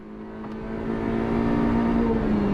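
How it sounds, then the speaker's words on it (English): A car runs at full throttle on a race track after a rev-matched shift into second, its engine a steady droning tone that swells and grows louder and more strained across the clip, with no talking. "Rev match into second. Full throttle all the way to the bowl."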